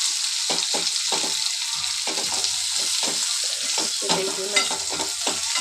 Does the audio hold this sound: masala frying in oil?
yes